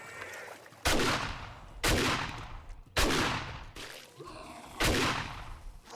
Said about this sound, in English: I don't believe I can fire my shotgun when I'm underwater, so I have to fire it into the water